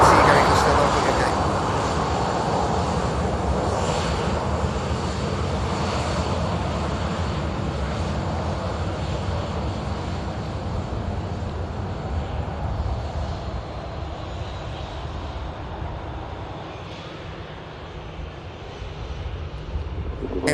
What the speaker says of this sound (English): Here's the Finnair, of course, heading back out to Helsinki.